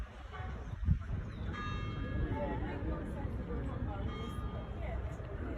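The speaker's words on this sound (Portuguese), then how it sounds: "Então, vocês viram o soar dos sinos" Church bells ring across the harbour of St. George, Grenada, the capital with Anglican church towers, heard at a distance beneath steady crowd and ambient hubbub, with a voice speaking over the scene.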